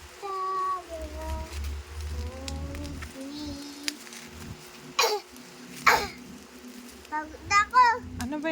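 A young child coughs and clears the throat indoors, a few sharp bursts in the second half, with child speech and soft voices around them.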